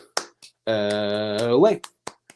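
Bruins fans clap for UCLA: a few sharp, spaced claps come before and after a long, sustained drawn-out voice in the middle.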